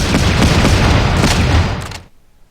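Dense, loud video-game gunfire from an ASL mod scenario rattles continuously for about two seconds as a rapid burst of shots, then cuts off abruptly into near silence.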